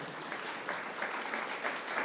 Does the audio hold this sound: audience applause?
yes